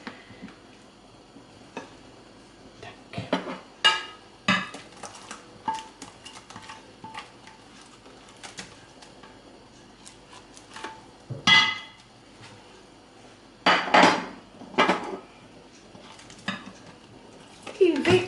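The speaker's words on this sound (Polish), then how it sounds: "Jeszcze sobie przymieszam, aby mieć pewność." A spoon scrapes and taps against a bowl while a cream mass with chopped jelly is stirred for a quick Polish no-bake cream cake on biscuits, giving irregular close clicks and knocks that grow busier toward the end.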